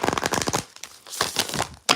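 A deck of oracle cards being shuffled, with a quick burst of dense riffling flutter, a short pause, then a second run of papery card flicks ending in a sharp snap, close and fairly loud.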